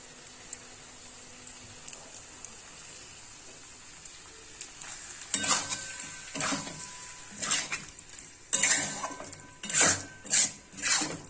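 A spoon stirring white sauce pasta in a pan: quiet scraping at first, then a run of distinct rasping strokes and clinks against the pan, growing louder toward the end, no talk.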